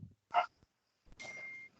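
A dog barks through an open microphone on an online call, giving a short loud burst followed by a rougher, scratchier stretch, with quiet gaps between.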